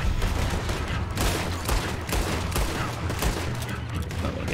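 Sustained gunfire in Red Dead Redemption 2 on an island near a beach, a dense, continuous volley of shots over a steady, loud background with no clear pauses.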